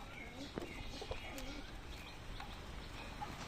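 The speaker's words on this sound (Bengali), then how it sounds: "আর এই পায়রাগুলো সব খেতে দিয়ে দিয়েছি, ভেতরে খাচ্ছে" Pigeons feeding inside their loft give soft cooing calls now and then over a faint background hum, fairly close and gentle, with no one talking.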